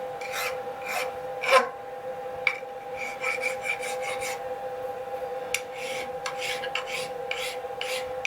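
A hand file rasps steadily across a machined bronze slide valve buckle for a 7 1/4 inch gauge locomotive, each stroke a gritty scrape, with one louder stroke early on and a constant machine hum behind.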